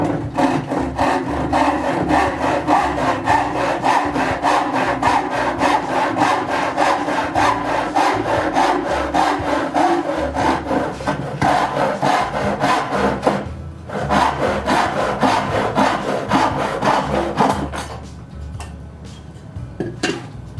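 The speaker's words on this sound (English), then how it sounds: "I'm going to be using the Diston number 12. It's a 10 tooth per inch saw." A Disston No. 12 handsaw with 10 teeth per inch cuts through wood in a steady, fast back-and-forth rhythm of loud rasping strokes, pausing briefly near the end before a few lighter strokes.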